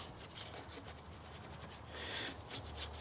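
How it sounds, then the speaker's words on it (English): A soft bristle Raceglaze detailing brush scrubs and agitates dirty surfaces in a 2007 Subaru WRX engine bay, giving a steady, close bristly rubbing and scratching that runs throughout and grows slightly louder toward the end. "get your Raceglaze brush or any kind of soft bristle brush and just go through and just agitate all the surfaces"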